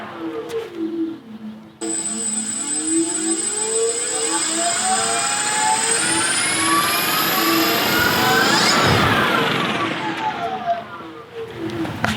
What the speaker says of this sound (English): I'm gonna see if I can spark it up.